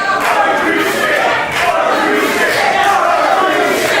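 A wrestling crowd jeers loudly and continuously at a match, a dense roar of many voices with chanting and shouting that fills the arena.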